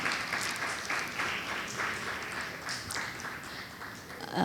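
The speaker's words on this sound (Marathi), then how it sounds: "त्यांच्यासाठी जोरदार एकदा टाळ्या वाजवून त्यांचं स्वागत करूया आपण." An audience at an event claps steadily to welcome Dr. Snehalata Deshmukh, the presiding guest. The applause is a dense, continuous patter of many hands heard from within the hall.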